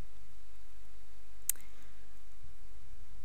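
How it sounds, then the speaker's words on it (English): A single sharp computer mouse click stands out at close range against a quiet room hum while a WordPress site is navigated in a browser, with no talking. "you can just go up here and click Visit Site"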